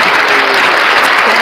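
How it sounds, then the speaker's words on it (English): A dense, loud wash of crowd applause at a casual podcast-style gathering, steady and continuous for its short length with no talking. "Chief, you get the round of applause too."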